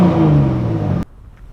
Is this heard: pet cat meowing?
no